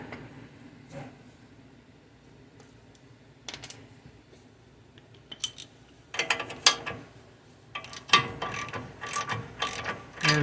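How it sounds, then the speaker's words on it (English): A ratchet spins off a control arm bolt nut on a 2011 Mercedes GLK 350 X204 4Matic, starting as quiet clicking and building into rapid, louder bursts of pawl ratcheting, close and without talk. "spin off the other control arm bolt nut with a breaker bar,"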